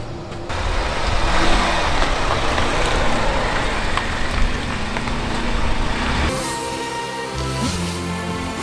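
A car rolls slowly onto a homemade gravel-and-sheet parking pad, its engine a steady mid-range drone with tire crunch for about six seconds before the motor note shifts lower and quieter.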